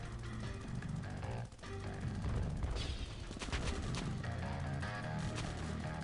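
Weapons firing at skeleton heads in the OTTTD tower-defense game on iOS: dense, continuous gunfire and explosive booms, loud and sustained throughout, with overlapping rapid bursts and no talking.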